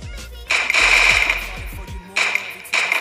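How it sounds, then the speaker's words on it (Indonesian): Rapid automatic gunfire from a Free Fire mobile game weapon bursts out in loud, fast-repeating volleys, with a long burst followed by two shorter ones separated by brief gaps. "Jadi pas crosshair gue di atas gini itu langsung gue tembak guys"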